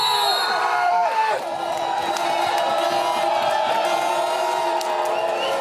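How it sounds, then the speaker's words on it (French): Irish football supporters roar and cheer as a dense crowd, with shouts and whoops rising out of a constant loud wall of voices that holds steady throughout. "jusqu'où vont crier les supporters irlandais?"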